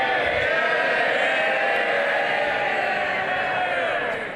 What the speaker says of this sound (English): You will see from the loud cheer just how popular the former minister was.